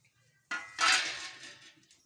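Jaggery being stirred into a metal pot while making a sweet, giving a burst of scraping and clinking of a spoon against the pot, loud at first and then trailing off.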